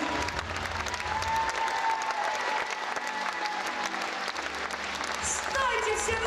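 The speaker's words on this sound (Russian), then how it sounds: "Люди, надо аплодировать." Concert audience applauding at a live pop show, a dense sustained wave of clapping filling the hall throughout, with a voice heard over it.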